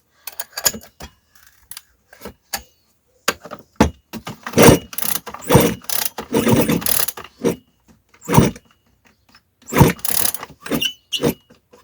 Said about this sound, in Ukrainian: трішечки дьорну запусковий пристрій